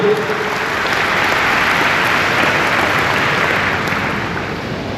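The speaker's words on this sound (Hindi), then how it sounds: "एक बार इस महफिल के लिए, इस बज़्म के लिए जोरदार तालियां हो।" Loud, sustained applause from an audience at a kavi sammelan poetry gathering during a Ganesh festival evening, a dense wash of clapping that holds for several seconds and eases slightly toward the end.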